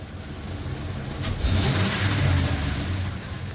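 A 2003 Dodge Ram 1500 with the 4.7 engine and a misfire revs up from idle, the engine note rising and holding a steady roar, close and loud with no talking.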